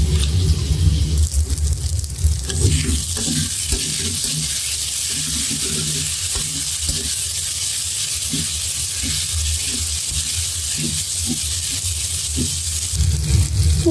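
Masala spice paste sautéing in a pan, a steady broadband sizzle with soft crackles and occasional stirring scrapes, continuous and fairly close.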